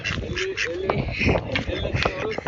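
A drake quacks repeatedly in short, nasal bursts close by in a village, under and between people talking.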